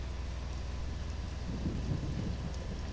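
Steady rain with low rumbling thunder in the survival game The Isle, a continuous, fairly loud wash of downpour with deep rolls swelling in the background and no voices.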